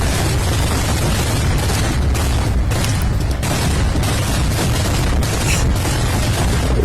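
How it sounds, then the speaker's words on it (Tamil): A dense, nonstop barrage of loud Diwali firecracker bangs and crackling, rumbling together into one continuous roar with no pauses. "வான வெடியா இல்ல என்ன வெடி வெடிக்கிறாங்கன்னே தெரியல"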